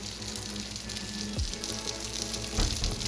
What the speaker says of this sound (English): The onion's starting to caramelize a little bit. And the sausage, I'm just cooking it really slow.